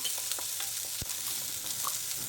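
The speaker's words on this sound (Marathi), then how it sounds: "कांदा परतून घ्यायचा आहे" Onion and chili sauté in a hot pan for jowar-flour noodles, giving a steady, close sizzle with a few soft stirring scrapes and a sharp knock near the middle, no voices.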